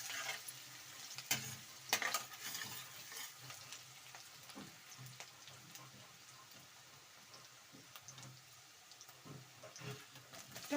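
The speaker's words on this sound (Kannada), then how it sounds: "ನೋಡಿ ಈರುಳ್ಳಿ ಎಲ್ಲ ಕಲರ್ ಚೇಂಜ್ ಆಗೋವರೆಗೂ ಸ್ವಲ್ಪ ಫ್ರೈ ಮಾಡ್ಕೊಳ್ಳಿ" Onions fry in a pan for vangi bath, giving a soft, continuous crackling sizzle like light rain, with a few louder pops and stirring knocks early on. The whole sound stays fairly quiet.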